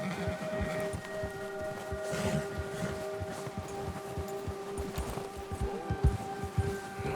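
Horse hooves clop in a quick, regular rhythm in Red Dead Redemption 2, fairly close but moderately quiet, over a low steady background hum.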